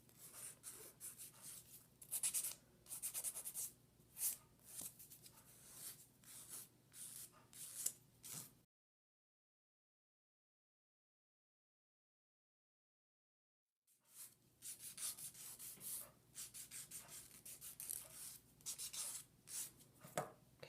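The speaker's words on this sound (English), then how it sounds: "now I'm going to use the fine grid and just sand the nail" A fine-grit nail file sands an acrylic nail in quick, soft, raspy back-and-forth strokes heard close up. A stretch of complete silence falls in the middle, and then the rhythmic filing resumes.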